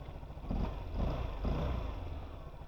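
A 2025 Voge SR16 125 scooter with a Euro 5 Plus engine runs quietly nearby, a soft, even low hum with slight pulsing and no talking.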